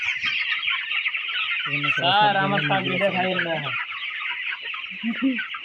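Many broiler chickens cluck and chirp continuously at a wholesale market, with one louder drawn-out squawk in the middle and a brief voice near the end.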